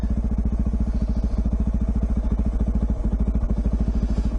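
KTM dual sport motorcycle riding off-road on a trail, a steady rapid thumping engine beat with some clatter, close and continuous, no talking.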